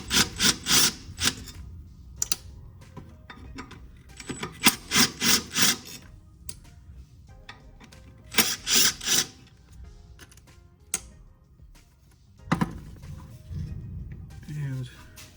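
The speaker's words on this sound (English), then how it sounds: "take these 3 bolts out" Three bolts are unscrewed from the body of a Hitachi NR83 nail gun near the back cap fitting, with bursts of rapid scraping and ratcheting tool strokes separated by quieter pauses and handling sounds.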